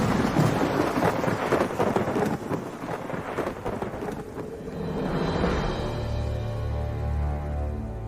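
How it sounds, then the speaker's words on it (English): Heavy thunder rolls and rumbles loud and close, with steady rain hissing underneath; a long crashing peal fades into a lower, sustained rumble in the final seconds. "he wields the one and only weapon of mass destruction of his time, lightning"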